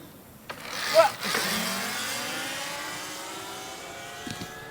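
A Talaria Sting R electric dirt bike fitted with a 58-tooth sprocket launches after a sharp thump, its motor whine rising steadily in pitch as it pulls away, loud at first and fading with distance.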